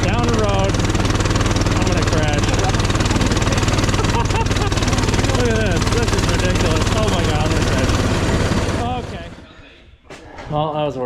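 Small mini bike engine buzzing hard while pushing a Phoenix car down the road, a loud, steady revving drone that cuts out near the end, with people talking over it.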